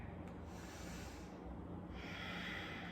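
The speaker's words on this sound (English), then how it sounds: "Take a few breaths here." Slow yoga breathing during a cactus-arms balancing posture, heard as a soft, close, steady airy rush of breath through the nose, faint and continuous, with one brief sharper intake.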